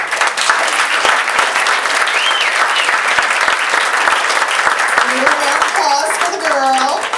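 Comedy club audience at an improv venue applauding hard and continuously, with cheers and whoops rising over the clapping and voices calling out near the end.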